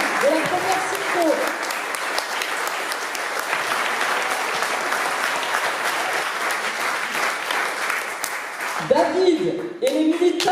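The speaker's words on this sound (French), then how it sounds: "je vous demande de les applaudir à nouveau, comme ils le méritent." Continuous applause from a crowd at a French political campaign rally in Ille-sur-Têt, steady clapping running throughout, with a voice speaking briefly over it at the start and again near the end.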